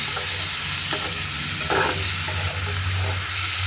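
Mowa fish frying with onions in a pan, stirred with scraping strokes over a continuous loud sizzle, close and without talk.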